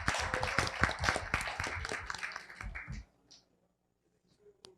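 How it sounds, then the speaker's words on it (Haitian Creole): Audience applause at a Christmas radio and television show, dense hand clapping for about three seconds that ends abruptly, followed by near silence with a few faint sounds. "applaudissez mesdames et messieurs"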